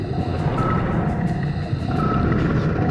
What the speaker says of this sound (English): assaulted by a low health alarm, the unsettling sound of my sub creaking under the pressure, and the incessant computer giving me even more low health warnings